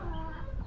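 Close, busy clucking from chickens, a continuous chatter of overlapping calls lasting under a second with no talking.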